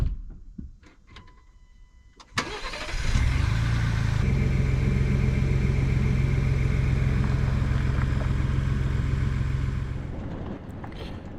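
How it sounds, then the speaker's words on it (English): A Ford Bronco's engine fires up after a few faint clicks and settles into a steady, close, low running rumble as the vehicle backs away following a flat-tow setup, fading slightly at the end. "we're going to just back the Bronco away to confirm that the transaxle is back in gear"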